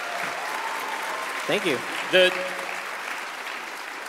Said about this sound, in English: big round of applause to Art department